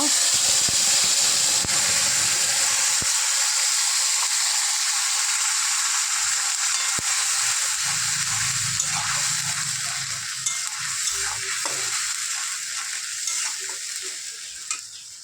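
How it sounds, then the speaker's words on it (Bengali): A paste of onion, garlic, ginger, tomato and green chilli is poured into hot oil and fries with a loud, steady sizzle. A few faint stirring clinks sound as the hiss slowly eases. "এবার মশলাটাকে তেলের মধ্যে ঢেলে দেওয়া হলো"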